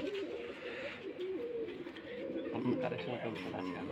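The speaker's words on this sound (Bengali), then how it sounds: "নতুন কিছু কালেকশনের কবুতর।" Rajshahi Giribaj pigeons coo in repeated low, throaty rolls at close range, layered with chirps from other birds and background chatter at a pigeon farm.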